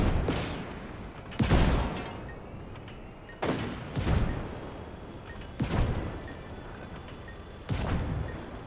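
Cannon and gunfire from the Just Cause 3 video game crack out in four heavy bursts spaced a couple of seconds apart, each booming loud and then decaying into a low rumble, with no voices.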